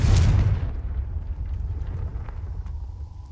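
A loud Confringo spell blast from the Hogwarts Legacy video game, with a sharp heavy boom at the start that decays into a long low rumble, a few faint clicks trailing in the quiet afterward.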